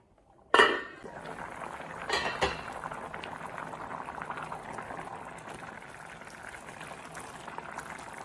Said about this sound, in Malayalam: നന്നായിട്ട് തിളച്ച് വരുന്നുണ്ട്. നമ്മുടെ വാഴത്തടയും വേവാൻ തുടങ്ങിയിട്ടുണ്ട്.